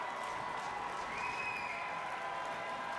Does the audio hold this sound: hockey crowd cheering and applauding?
yes